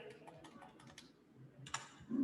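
Typing on a computer keyboard at a Linux terminal, a quick run of close keystrokes followed by a pause and a few sharper taps.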